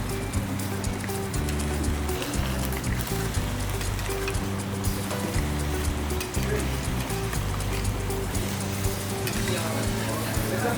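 Beef and asparagus stir-frying in a Saladmaster electric skillet give a steady, close sizzle with a low hum running throughout, and occasional stirring scrapes on top.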